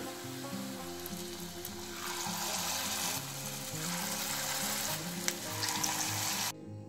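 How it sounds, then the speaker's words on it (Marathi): Mysore bhaji fry in hot oil with a steady, dense sizzle that carries on throughout, under a rhythmic mechanical background hum, and cuts off abruptly at the end. "आता आपण हे काढून घेऊ आणि बाकीचे असेच तळून घेऊ"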